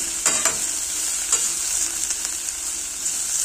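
Tokwa, firm tofu, fries in a pan before a petchay stir-fry, giving a steady bright sizzle with a few soft stirring scrapes, close and continuous, with no talking.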